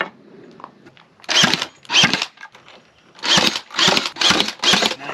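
Power drill driving screws into a warped piece of ash table wood during a GMC motorhome rebuild, five loud whirring bursts in close succession, each about half a second long.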